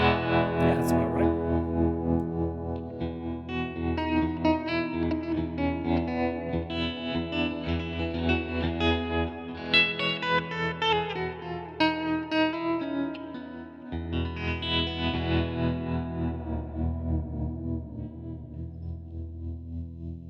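An electric guitar runs through an HX Stomp Jazz Chorus amp model with reverb, giving a shimmering, washy tone as strummed chords and notes ring on continuously for about twenty seconds at moderate level.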